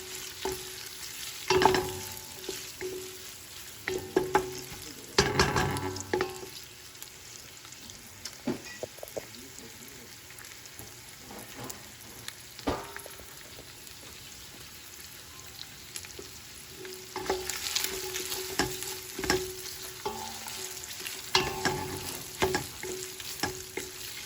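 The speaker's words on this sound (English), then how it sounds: "I want all the flavor of the garlic to release without burning it." Garlic sizzles while frying in a pan for a red clam sauce, giving a steady crackle with louder bursts and occasional scraping stirs, close and alone with no talk.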